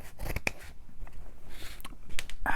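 Scissors snip through fabric near a zipper while a journal cover is being made, giving a few quick, close crisp cuts and rustles spaced irregularly across a short stretch.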